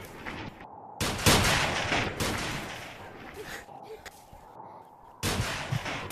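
Sniper rifle fire rings out in a video game, several loud sharp shots with rolling echoes, one near the start and another around five seconds, over a noisy game soundscape.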